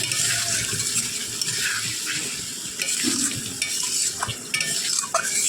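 Spiced masala in a pan is stirred after bowl-rinse water goes in, giving continuous close scraping and stirring over a wet sizzle, with occasional light clinks of the utensil.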